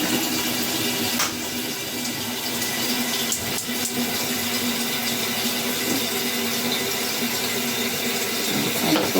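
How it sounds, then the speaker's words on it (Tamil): Water gushes steadily from a pipe tap into a vessel at home while preparing Thai Pongal, a continuous close, full splashing rush with no voices. "நீரை பார்த்து பைப்பில் இருந்து நீர் எடுக்க போகிறோம்"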